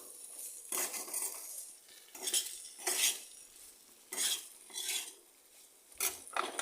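A spoon stirs okra with onion masala, oil and sauce in a pan, giving a series of close scraping, clinking strokes in an uneven rhythm with quiet gaps between them and a faint sizzle.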